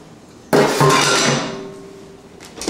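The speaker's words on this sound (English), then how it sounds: "Taking the grating disc off." A grating disc is lifted off a food processor while potatoes are being grated, giving one sharp clattering plastic-and-metal knock, then a second clack, fading into a short ringing tail, with a small click near the end.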